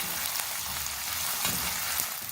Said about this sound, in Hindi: प्याज और आलू को हम मीडियम फ्लेम पर फ्राई करेंगे